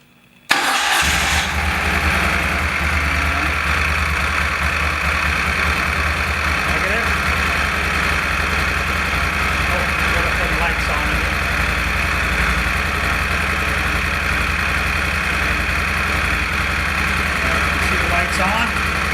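A Moto Guzzi Stelvio motorcycle engine cranks and fires after a short silence, then settles into a loud, steady idle that runs close by without letup.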